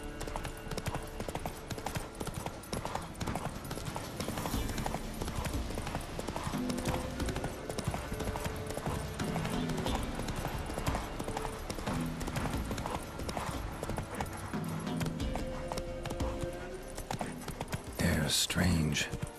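Roach, a horse in the video game The Witcher 3, gallops with a steady clip-clop of hooves beneath game music and ambience, a voice speaking over the hoofbeats.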